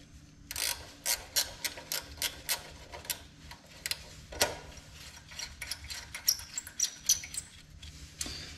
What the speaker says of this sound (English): we're going to grab a 10mm wrench and we're going to loosen the tensioners